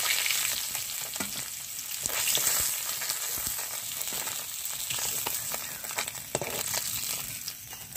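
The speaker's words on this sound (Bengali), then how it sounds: "মাছগুলো একটু লালচে করে ভেজে নিয়েছি" Pieces of freshly cut local katla (rohu-type carp) fish frying in hot oil, a steady dense sizzle and crackle with occasional spatter pops, close and continuous with no talking.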